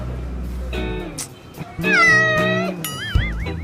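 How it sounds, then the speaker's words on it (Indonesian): A cat meows several times up close, drawn-out wavering cries, with another voice briefly talking in between. "Kucing siapa nih?"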